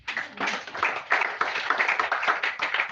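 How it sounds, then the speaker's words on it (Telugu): Congregation at a Christian worship service clapping hands, a close, brisk stream of overlapping claps in a loose rhythm lasting throughout, with no speech. "చప్పట్లు కొట్టండి."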